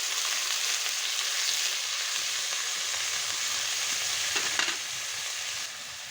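Chopped carrot and cabbage fry in a pan with a dense, even hiss of hot oil, with a few stirring scrapes near the end before the sizzle eases slightly.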